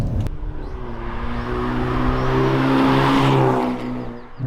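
A 2022 Hyundai Elantra N in N mode revs its engine loudly and close, a steady droning tone that builds and climbs in pitch over several seconds, then eases briefly and picks up again near the end.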